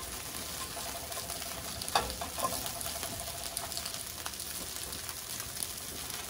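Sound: chorizo sausage slices browning in hot oil in a pan

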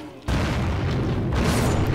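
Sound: giant barrels exploding in video game MorphX

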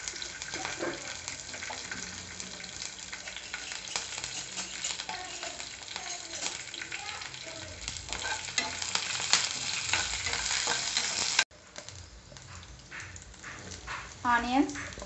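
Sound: stirring and frying chana with garlic and chillies in a pan

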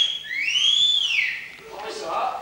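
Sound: wolf whistle

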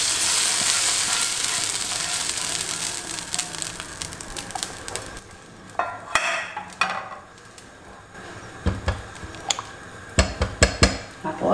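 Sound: golden fried seasoning added into beans, sizzling

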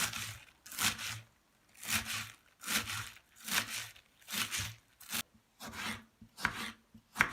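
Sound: knife finely chopping green onions

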